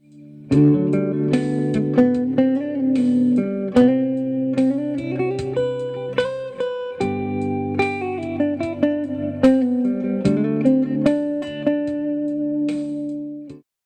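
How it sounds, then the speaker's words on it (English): An electric guitar runs a modal scale over a chord progression, clear sustained single-note lines sliding and bending above held chords, played alone at steady volume. "So you'll be playing the whole scale over the whole chord progression"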